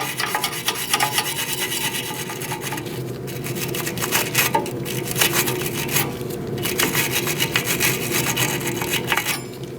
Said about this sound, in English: You're going to want to clean this now. I'm using a wire brush.